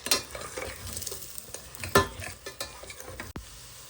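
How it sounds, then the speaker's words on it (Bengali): Eggs frying with boiled papaya in a pan, close sizzling broken by repeated scraping strokes of a spatula stirring the mixture, a sharp clack near the end; no talk. "ডিমটা ভালো করে ভেজে নিচ্ছি"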